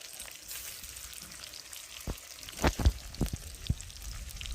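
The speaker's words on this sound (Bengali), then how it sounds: "আর আমার আদা রসুন এটা তেলে দিয়ে দিলাম।" Ginger and garlic frying in hot oil, a quiet steady sizzle punctuated by several sharper spattering pops and clicks close by.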